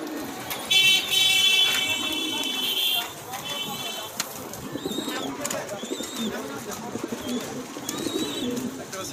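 A pair of yellow Bombay pigeons coo in repeated soft, rolling calls close by, while people talk nearby and a brief electronic tone sounds early on.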